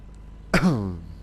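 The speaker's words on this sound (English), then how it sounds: "Sorry guys, again, me and my cough." A single short, sharp cough, close and fairly loud, with a brief throaty tail, heard alone over quiet background.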